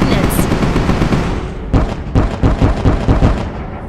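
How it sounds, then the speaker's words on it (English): Ordnance fires in the space battle video game Sunrider: Mask of Arcadius: a loud rumbling barrage of rapid booms and blasts, dense and continuous, with several sharp punchy impacts in the second half. "Firing ordnance."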